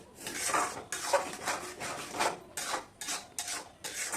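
A utensil scrapes repeatedly around a pan, stirring sugar for an olive chutney in short rhythmic strokes, a gritty rubbing sound with brief pauses between stirs.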